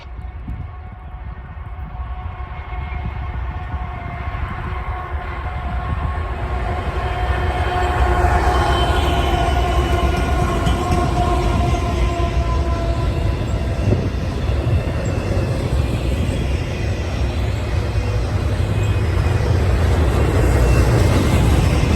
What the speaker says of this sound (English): an NS westbound unknown intermodal train makes its way toward Chicago, Illinois, with a BNSF second out